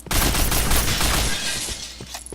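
Gunfire in the online shooter Point Blank, a dense rapid burst of shots from an MP7 or sniper fight, loud and close, tapering off with a couple of isolated shots.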